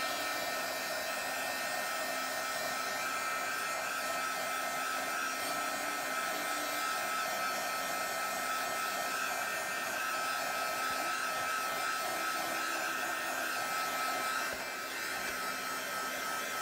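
A hair dryer blows steadily to dry paint between color layers, a continuous loud whooshing hum lasting throughout with no talk.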